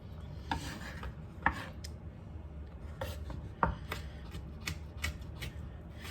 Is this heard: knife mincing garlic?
yes